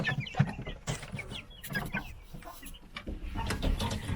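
Chickens cluck repeatedly in a busy flock, a steady murmur of overlapping clucks and squawks at close range.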